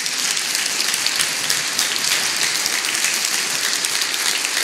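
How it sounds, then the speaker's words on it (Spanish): Sustained applause from an audience in a Legislative Assembly chamber during a ceremony honoring a student, a steady, dense, loud wash of clapping hands that cuts off abruptly at the end. "Un aplauso, por favor."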